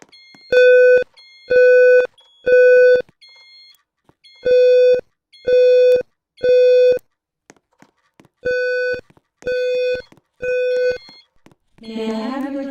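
A building fire alarm sounding during an alarm test, with loud electronic tones in repeated groups of three evenly spaced beeps separated by short pauses, followed by a brief burst of other sound.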